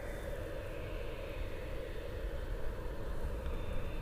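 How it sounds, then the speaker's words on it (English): A United Dreamliner departing Munich airport gives a broad, steady jet roar at a distance, a rumbling wash that holds constant with a slight swell. "This United Dreamliner's heading off to Denver."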